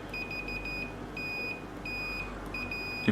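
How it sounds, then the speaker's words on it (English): Continuity buzzer of a Fluke 117 multimeter giving a series of short, sharp, high-pitched beeps, some rapid and clipped, others held a little longer, close and clear over a quiet background. "the first thing we're going to have a look at is the buzzer"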